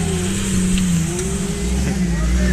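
A Jeep Rubicon engine revving on a sand dune, holding a loud steady drone with slight pitch shifts, close by, with people talking over it.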